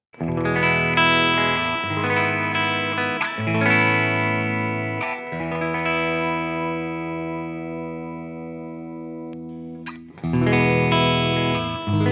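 An Ibanez Iceman electric guitar with a poly finish, played through its bridge pickup with heavy distortion and effects, rings out in loud sustained chords that are struck repeatedly and left to decay, with a short gap before a final burst.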